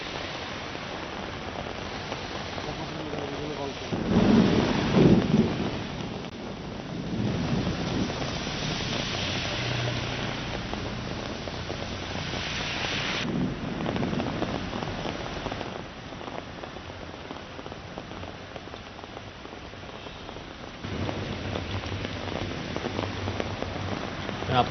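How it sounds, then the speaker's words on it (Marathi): Unseasonal April rain in Pune's Shivajinagar area during a stormy, windy afternoon, a continuous dense hiss of rain on surfaces that swells briefly louder, with some wind rumble and no talk. "पुण्यामध्ये हा पाऊस बरसतो आहे."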